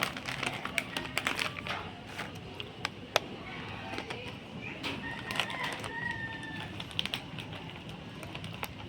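Roosters crowing at night in a rural Philippine yard, several calls rising over a dense, steady background of insects and clatter, the crows moderately near and repeated through the stretch.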